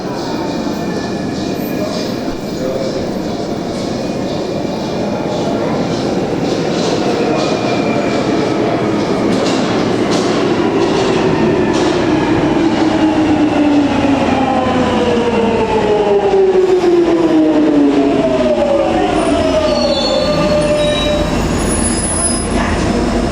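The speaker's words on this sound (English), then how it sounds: "for those who love the Jubilee line, you know that it has the iconic traction sounds" A London Underground Jubilee line 1996 stock train runs at Green Park station with its distinctive traction whine, rising and sliding tones over a loud steady rumble and rail noise, with a recorded announcement heard briefly.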